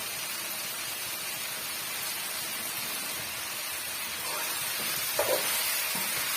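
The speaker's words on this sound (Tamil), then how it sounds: "எல்லா கத்திரிக்காயும் நான் சேர்த்துட்டேங்க இப்போ நல்லா வந்து வதக்கி விட்டுடலாம்" Eggplant sautéing in oil for a Chettinad-style brinjal curry gives a steady, close hiss and sizzle throughout, with a few faint stirring knocks near the end.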